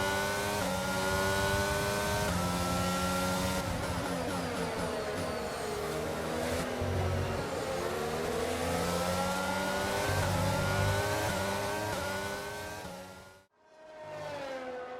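Formula 1 race car engines scream around Zandvoort in F1 22, a loud, continuous high-revving whine with rising and falling pitch as cars accelerate and shift, cutting out briefly near the end before roaring back.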